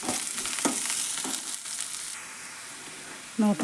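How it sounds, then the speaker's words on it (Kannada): Onions frying in oil for a fenugreek leaf dish, a close sizzling hiss with a few stirring scrapes that gradually softens, ending with a brief low knock. "ಆಮೇಲೆ ಉಳ್ಳಾಗಡ್ಡಿ ಹಾಕೋತೀನಿ. ಇವನ್ನೆಲ್ಲ ಎಣ್ಣೆ ಒಳಗೆ ಫ್ರೈ ಮಾಡ್ಬೇಕು ನೋಡ್ರಿ"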